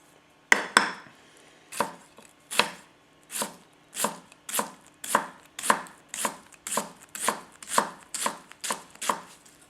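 A Yamashin White #1 210mm gyuto chopping an onion on a cutting board, about fourteen crisp, evenly spaced cuts in a steady rhythm after a quick first pair, close and clear with no talk.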